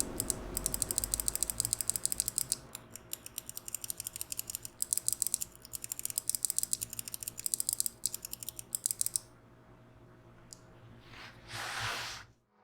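Fingers type quickly on a Skyloong Epomaker SK64 60% keyboard with blue switches, producing sharp, crisp clicks in an uneven rapid stream for about nine seconds before stopping, followed by a brief soft rustle.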